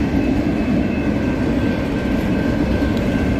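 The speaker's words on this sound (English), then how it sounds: "Yeah, Amtrak Coast Starlight." An Amtrak Coast Starlight passenger train passes in Oakland, California, producing a loud, steady rumble of wheels and cars with a continuous roar throughout.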